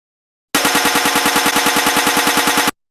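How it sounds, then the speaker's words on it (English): A glass smash effect generated in Krotos software, stuttering into a rapid, even burst of roughly twenty sharp crashing hits like machine-gun fire, loud and close, starting and stopping abruptly. "That sound is just turning into a glass machine gun."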